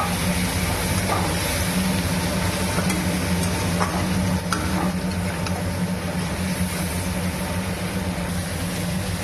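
Food sizzles steadily in a hot pan in a home kitchen, a dense continuous hiss with occasional small crackles, close and unbroken with no talk.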